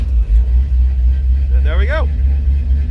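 A Chrysler truck engine cranks briefly and catches, its low rumble steady throughout with a rising whine near the end, while someone speaks briefly over it.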